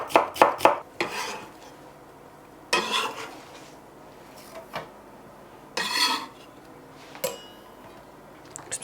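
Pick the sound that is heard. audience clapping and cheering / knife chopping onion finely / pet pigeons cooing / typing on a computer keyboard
knife chopping onion finely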